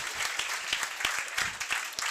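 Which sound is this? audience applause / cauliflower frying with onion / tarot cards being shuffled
audience applause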